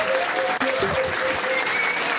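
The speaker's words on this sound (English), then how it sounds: "Give them a round of applause." Crowd at a pub trivia quiz gives a short, lively round of applause, loud and close, with faint voices mixed into the clapping.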